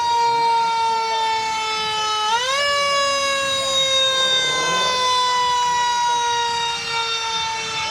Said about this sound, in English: I don't know which is louder, the sirens or the rumble of the Mustang